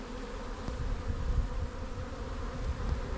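Steady, dense buzzing of many honeybees close by on a hive frame, a low continuous hum with no voices.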